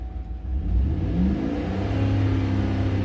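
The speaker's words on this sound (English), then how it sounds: "Going up with engine RPM." A Chevy engine, being checked after an oil pressure sender replacement for code P0523, revs up steadily, a loud close rising drone that holds at higher RPM with no talk.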